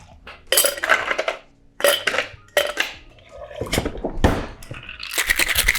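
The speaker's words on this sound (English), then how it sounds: "Give it a shake for 8 to 10 seconds." Gin with celery juice and honey syrup rattles in a cocktail shaker, irregular bursts of ice clattering against metal, loud and close, with liquid sloshing and no voices.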